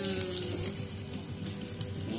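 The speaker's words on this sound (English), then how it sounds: "you pop it on here, this little oops, and it sizzles. Can you hear that?" A beef cutlet sizzles and crackles steadily on a hot grill, a continuous hiss close up with faint background hum.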